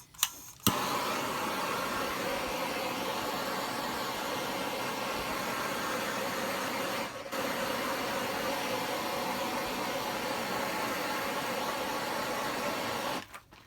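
A fire starter torch burns steadily and close, shrinking heat-shrink tubing on RV wiring, a constant broad hiss lasting over ten seconds with one brief dip midway before it cuts off.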